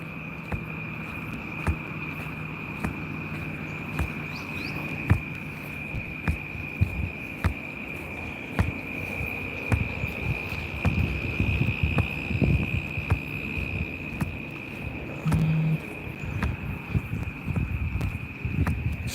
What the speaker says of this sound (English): You guys can just hear crickets